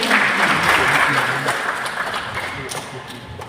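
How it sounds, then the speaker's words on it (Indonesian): Congregation applause at a Sunday Lenten church mass, a sustained wash of many hands clapping in a large room that slowly tapers off. "Tepuk tangan untuk kita."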